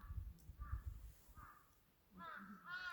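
Birds calling nearby at a mountain hermitage, with a few harsh caws standing out over a quiet, faint rumbling background.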